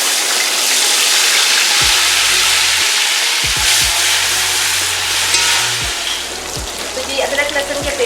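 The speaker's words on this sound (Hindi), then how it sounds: "अदरक लहसुन के पेस्ट को भी 2 मिनट तक भून लिया।" Ginger garlic paste sizzles and fries in hot oil with whole garam masala, steady and loud, while occasional scraping strokes of a stirring spoon cut through.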